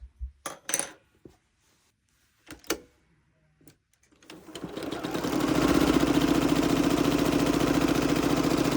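A sewing machine joins quilt pieces, starting up after a few light handling clicks and then running steadily and loudly at close range.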